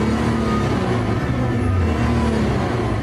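A Nissan GT-R R35 engine runs on a factory test stand after its first start, a steady, loud mid-pitched drone with slight rev fluctuations and no talk over it.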